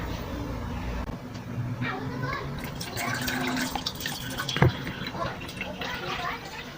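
Soaked seeds have their water drained off in a steady wet trickle and splash, with a sharper slosh near the end and faint voices in the background.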